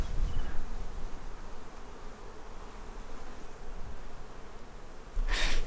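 Honey bees buzz around side-by-side beehive colonies, making a steady soft hum with individual bees droning close by, then one passing loudly near the end.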